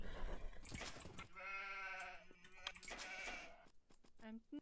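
Sheep bleat in the Age of Empires-style strategy game, with a drawn-out, wavering cry running through the middle of the clip over a busy backdrop of game sounds.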